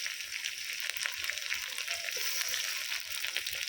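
Chopped tomato hitting browned onion in hot oil for a red chicken curry, giving a bright, continuous crackling sizzle heard up close and uninterrupted.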